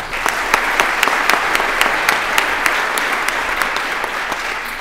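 Audience applause for First in Course and Commendation for Resilience award recipients in 2022: a dense, steady wash of many hands clapping at once, loud and continuous throughout.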